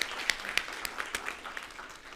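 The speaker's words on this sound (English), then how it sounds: "join me in giving him a round of applause." Audience applause for a presenter at a live agricultural conference session, faint and fairly sparse, with scattered distinct claps over a soft wash that thins toward the end.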